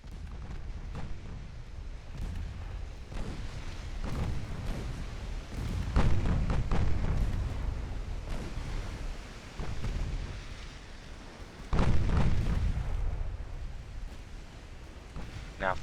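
Naval gunfire in the warship game Ultimate Admiral: Dreadnoughts, with a Royal Navy fleet chasing a cruiser off Sumatra: deep rumbling booms at irregular intervals, loudest around the middle and again near the end, over a steady low battle rumble.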